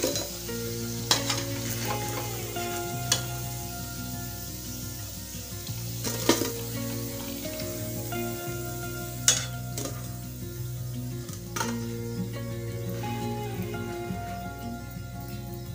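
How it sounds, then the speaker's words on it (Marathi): Red-chili sabudana vadas deep-frying in hot oil give a steady, dense sizzle throughout, with occasional louder pops and stirring clinks. "अशाच प्रकारे आपण उरलेले देखील वडे तळून घेणार आहोत।"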